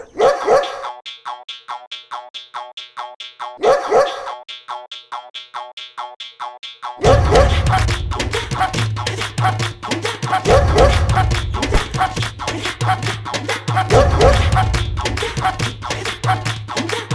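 A dog barks in quick repeated bursts with yips, first over near silence and then under a loud musical bed, close and prominent throughout.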